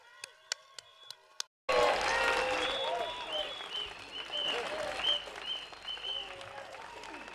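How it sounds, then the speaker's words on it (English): Outdoor election rally crowd applauding candidates, loud sustained clapping and cheering that bursts in abruptly after a short quiet stretch of a few sharp taps, with voices mixed into the crowd noise. "Can we have one more round of applause for Doc, as well as our candidates standing for the election?"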